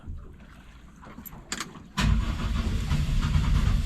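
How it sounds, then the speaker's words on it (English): A few clicks and rattles, then a boat engine abruptly turns over and settles into a loud, steady rumbling idle nearby. "We got Captain starting the engines."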